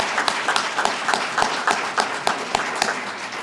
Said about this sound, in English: I would like for you to all stand up and give a round of applause to Molina Healthcare for bringing me in today.